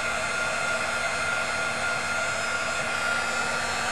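A heat gun blows hot air steadily across a plexiglass sheet, a constant close whooshing hiss that stays level throughout with no talking.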